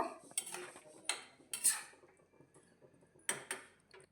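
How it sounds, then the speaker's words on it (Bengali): Vegetables stirred with water in a pot for a mixed winter vegetable dish, a series of sharp metallic clinks and scrapes of a spoon against the pot in irregular bursts, close and quiet, with no talking. "জলটা দিয়ে খুব ভালো করে মিশিয়ে নেব"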